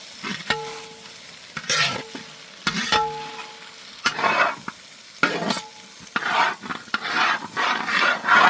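An egg frying in a pan for chicken fried rice sizzles in short bursts, broken by repeated scraping and stirring strokes of a utensil against the pan.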